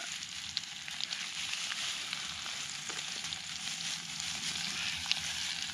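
Steady, dense sizzling of tomato frying in a hot pan, loud and close, with occasional pops and crackles throughout and no talking.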